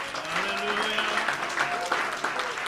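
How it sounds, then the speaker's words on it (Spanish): Church congregation applauding during a service welcoming new members, moderately quiet, with a voice and some tonal sound running beneath the clapping. "Un aplauso al Señor."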